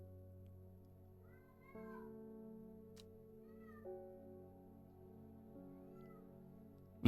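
A person imitates a cat, giving several quiet, drawn-out meows at a steady pace over a low, humming background.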